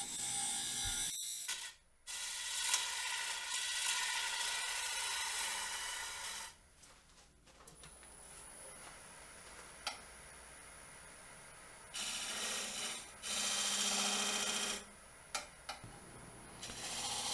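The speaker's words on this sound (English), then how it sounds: "So right here I'm using an Easy Wood Tools Easy Rougher" A wood lathe spins a maple burl while a carbide Easy Rougher cuts it, giving bursts of harsh, rattling scraping that start and stop in separate passes with quiet pauses between.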